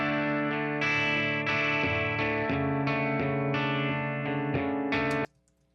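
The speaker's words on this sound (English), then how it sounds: "So together, that's going to be our clean guitar sound." Two double-tracked clean electric guitars, one played through a different pickup, strum the same chord progression together, producing a thick, steady stream of ringing chords that stops abruptly, with no voices.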